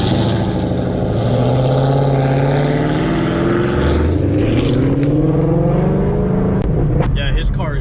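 A 2019 Dodge Charger ScatPack with CORSA longtube headers roars loudly, its exhaust rising and falling through revs as it passes close by, with voices heard near the end.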